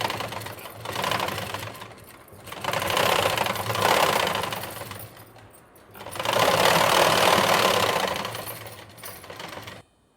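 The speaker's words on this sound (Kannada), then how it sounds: "ಈ ಥರ ಹೀಗೆ ಇದೆ ತುದಿಗೇ ಡಬ್ ಹೊಲಿಗೆ ಹಾಕೋಣ" A sewing machine runs a double seam along the edge of a blouse, its rapid mechanical stitching rattle coming close and loud in three long bursts separated by brief pauses.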